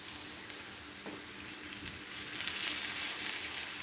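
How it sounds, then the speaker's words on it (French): Lamb browning in a pan for a tagine gives a steady, close frying sizzle that thickens slightly toward the end, with no talking. "Là, j'ai fait revenir, j'ai fait dorer un petit peu. On va rajouter la viande. Ici, j'ai de l'agneau."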